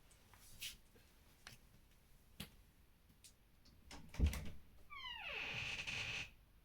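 A cat is let out of a room: light taps and a door bump are followed by a clear, drawn-out meow from the cat, fairly close in a quiet indoor space.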